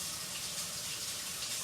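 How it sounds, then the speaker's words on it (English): A hand being rinsed under a running kitchen tap, a steady close stream of water splashing into the sink with no break, no voices. "Let me rinse it off."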